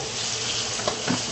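Skirt steak sizzling loudly in a hot pan after Worcestershire sauce is added, a dense steady frying hiss up close with a couple of brief bubbling pops.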